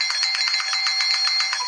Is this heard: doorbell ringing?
yes